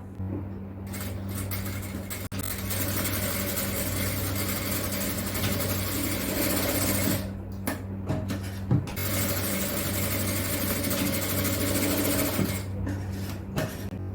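A sewing machine joins inskirt panels in a long, steady whirring run with brief pauses near the middle, loud and close with no talk.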